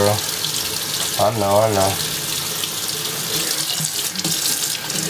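Lukewarm tap water runs steadily from a faucet for a hen's clutch care, a continuous close rushing stream, with a brief voice speaking over it.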